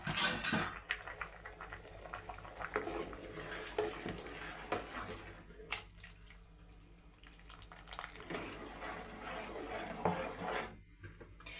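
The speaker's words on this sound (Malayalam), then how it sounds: "ഇനി ഒന്നാം പാൽ ഒഴിക്കാൻ പോവുകയാണ്" First coconut milk is poured into rice payasam amid trickling liquid and clinking utensils against the pot, with uneven bursts of pouring and stirring close by.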